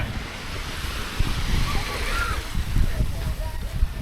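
Waves at high tide wash and slosh close by on a beach at Calatagan, Batangas, Philippines, with gusty wind buffeting the microphone, a rolling surge of water that swells and eases.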